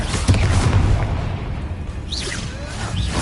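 A Confringo spell blast in Hogwarts Legacy: a dense, booming fiery burst with a whooshing rush that fades over a few seconds, loud and close, with faint higher swishing effects toward the end.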